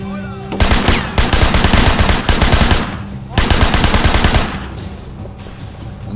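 Automatic gunfire in the video game Sleeping Dogs, loud bursts of rapid shots in two long volleys with brief pauses between, close and dominant.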